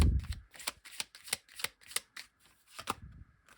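Tarot cards being shuffled and drawn, a rapid series of crisp flicks and riffles at an uneven rhythm, close and fairly quiet with no talking.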